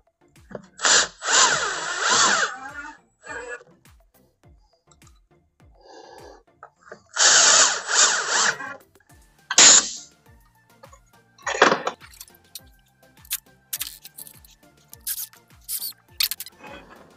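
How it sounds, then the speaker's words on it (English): A regular handheld drill drives pocket screws into a wooden face frame in several short, loud whirring bursts separated by pauses, with faint regular ticking in between. "I'll just use a regular drill for this."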